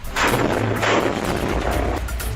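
A homemade RPG explodes in an ambush on a mayor's vehicle, a loud close boom followed by rolling, crackling blasts and rumbling over about two seconds, with no voices.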